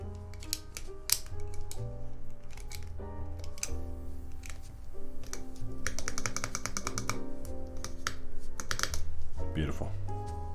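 Rapid typing on a TKC Kiwis custom mechanical keyboard, a steady stream of close clacky keystrokes with deeper spacebar thumps mixed in, running continuously without pauses.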